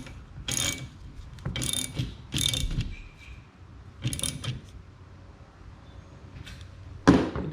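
A ratchet tightens a nut on a Jeep Grand Cherokee windshield cowl, in four quick bursts of close, crisp clicking with short pauses between them, ending in one sharp clack.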